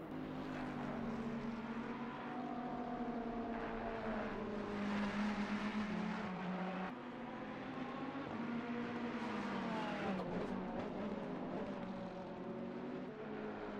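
Ferrari Cup race cars roar around a circuit, a continuous layered engine drone with pitch rising and falling as the cars pass and shift, heard from a moderate distance without talk.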